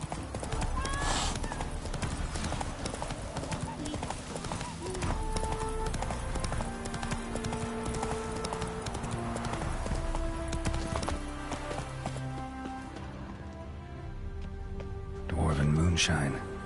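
Roach the horse galloping in The Witcher 3, continuous rhythmic hoofbeats close up, with a whinny near the end, under music and a speaking voice.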